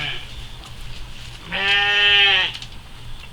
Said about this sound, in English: now I'm going to take you to meet the sheep